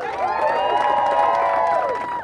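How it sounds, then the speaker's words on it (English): An outdoor crowd at a press conference outside the Massachusetts State House cheers loudly, with high whoops and shouts layered over a sustained roar that holds steady for about two seconds. "Let's hear a huge cheer for Janet Dominitz and Mass Purg"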